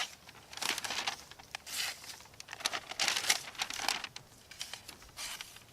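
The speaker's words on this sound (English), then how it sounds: "I did bring some paper because I always like to see if it'll cut paper." Bushcraft knife slicing through paper, a series of crisp crinkling and tearing strokes in irregular bursts, close by and fairly loud, with brief pauses between cuts.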